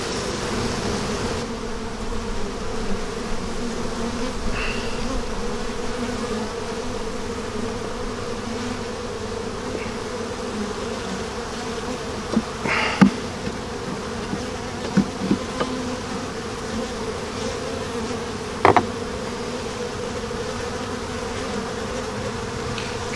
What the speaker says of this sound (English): A lot of bees in this box.